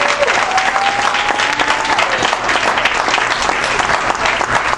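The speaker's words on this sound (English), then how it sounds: "giving Serodo and Frère Jean-Jean and Good News a round of applause" A large audience claps loudly and continuously, a thick, even wash of applause with a faint whistle rising near the start.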